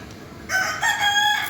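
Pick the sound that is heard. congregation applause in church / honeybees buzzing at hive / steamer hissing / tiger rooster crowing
tiger rooster crowing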